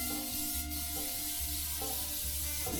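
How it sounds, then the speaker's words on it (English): Regular cooking spray hisses into a dishpan being greased for an old-fashioned pound cake, in a few close, soft bursts of spray with quiet rubbing between them. "but I use just regular cooking spray. Just give it a generous amount."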